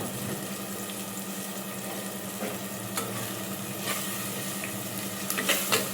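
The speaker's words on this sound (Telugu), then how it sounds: "అదిగో పసుపు వేసుకొని కలుపుకోవాలండి" Turmeric is stirred into frying chicken curry in a pot, a soft continuous sizzle with faint scraping strokes and a few sharper spoon clicks near the end.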